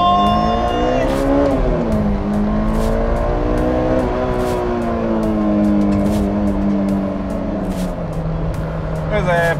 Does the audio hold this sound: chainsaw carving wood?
no